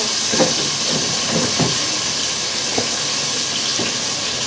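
Homemade spice mix and bay leaf dropped into hot oil in a cooking pan, giving a steady steamy hiss with several short sizzling bursts as the spices hit the oil; no talking.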